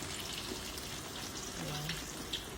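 A faint, steady sizzle and crackle of salted fish frying in hot oil in a pan, continuous and close, with soft hiss throughout.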